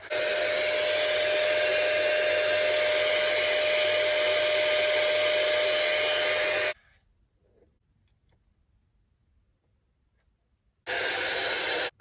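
A Dyson Airwrap dupe hair styler bought from TikTok Shop blows air with a loud, steady high-pitched whoosh, cuts off into near silence for about four seconds, then switches back on.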